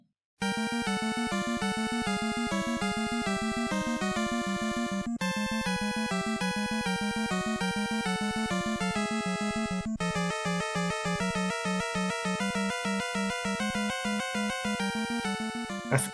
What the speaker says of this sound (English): Wart has his own music and it's only played during the Wart battle.